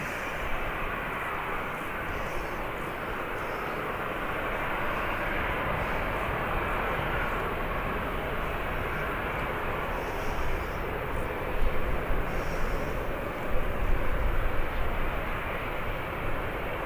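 Arriving aircraft at Birmingham airport gives a steady broadband roar that holds for the whole stretch and swells a little louder toward the end, with no voices over it.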